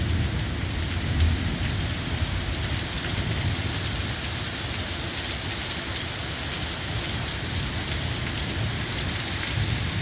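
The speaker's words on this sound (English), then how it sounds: "We're getting some rain" Steady rain falls across the whole stretch after a small storm, a dense even hiss of drops on surfaces with a low rumble underneath, constant and fairly loud with no voices.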